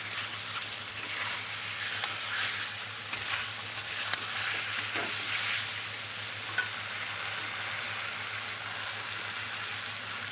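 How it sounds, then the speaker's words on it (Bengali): Spice masala frying steadily in oil for potol dolma, a continuous broadband sizzle with occasional faint stirring clicks, close and even throughout with no voices. "মশলাটা বেশ কষানো হয়ে গেছে"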